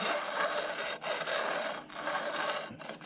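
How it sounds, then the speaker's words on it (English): A metal file rasps steadily across the carrier faces of a Ford 8.8 differential from a Fox Mustang, producing close, gritty back-and-forth strokes with a couple of brief pauses. "Just lightly scuff those down."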